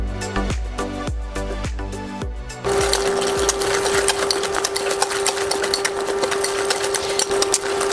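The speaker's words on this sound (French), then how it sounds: "Donc là, je mélange énergiquement pour bien retirer tous les grumeaux" Egg yolks, caster sugar, flour and cornstarch are beaten hard with a whisk into vanilla pastry cream to break up lumps: quick rhythmic clinking strokes, then a dense, steady churning whirr close by, with no talking.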